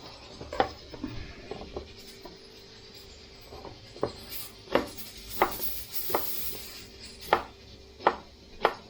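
A knife chops fish and other ingredients on a cutting board for a fish catch-and-cook dish, with sharp, irregular chops that grow more regular and louder toward the end, and no talking.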